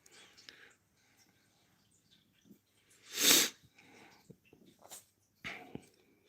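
A rescue cat gives one sharp, close sneeze that stands out clearly against quiet household sounds, with soft snuffles and faint breathy noises just before and after it.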